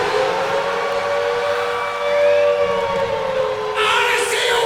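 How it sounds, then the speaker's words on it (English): Wailing air raid siren opening Black Sabbath's War Pigs, played live at Ozzfest, a loud rising and falling tone with crowd noise beneath it. "it all started, I'm telling you, the siren of War Pigs"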